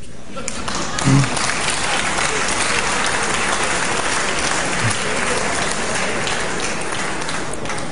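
Audience applause during a political speech, a broad, hissing roar of many hands clapping that holds steady for the whole stretch, with a faint voice briefly mixed in.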